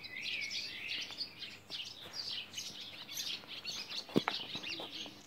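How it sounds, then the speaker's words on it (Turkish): Birds chirp and twitter steadily among the historic streets of Muğla town, a busy layer of high calls at moderate distance, with a brief nearby knock and no talking. "Sadece kuşların sesini dinleyelim."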